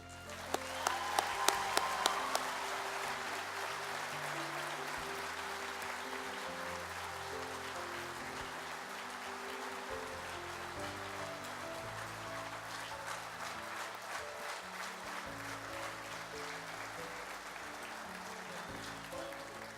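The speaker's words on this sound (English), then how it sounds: "Please join me in one more round of applause for our honorary state FFA degree recipients" Sustained applause from a large convention audience honoring honorary state FFA degree recipients at the Kansas FFA Convention, a dense steady wash of clapping with a few sharper claps at the start and music-like tones underneath.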